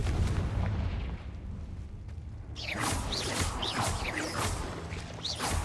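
Confringo fire spell explosions in Hogwarts Legacy, a heavy rumbling boom followed by a burst of crackling, whooshing debris, loud and close with no talking.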